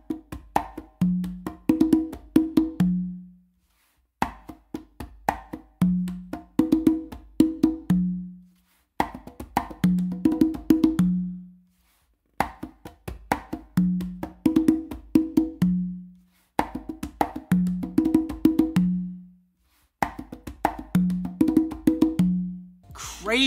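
Full 3 a caballo variation on conga and tumba, a repeating cycle of rapid ghost taps, bright slaps and booming open tones with short pauses between phrases, played solo and up close.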